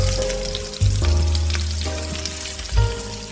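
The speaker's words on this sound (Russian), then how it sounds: "Пальчики необходимо обжарить с двух сторон." Stuffed fingers being fried on both sides in a pan give a continuous soft sizzle under background music.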